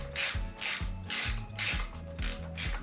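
A manual ratchet loosening bolts on a Camaro 305 V8 engine during a rebuild, giving crisp, rapid clicking bursts in a regular back-and-forth rhythm, close and clear with no talk.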